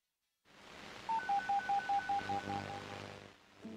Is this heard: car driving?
no